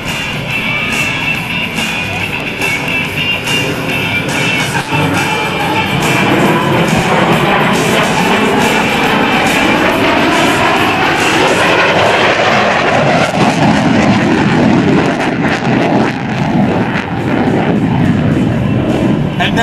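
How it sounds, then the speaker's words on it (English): An F-14 Tomcat jet flies an aerobatic display at the 2004 NAS Oceana Airshow, a loud continuous roar that builds and shifts throughout with no pause. "as the aircraft accelerates, it is rolled upright and the nose is pulled up and over the top again"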